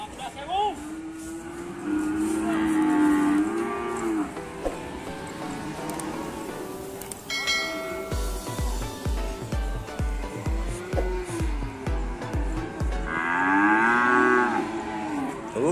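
Cattle low and moo at the Pati livestock market in Central Java, several loud, drawn-out calls spread across the scene over busy market noise, with people talking nearby.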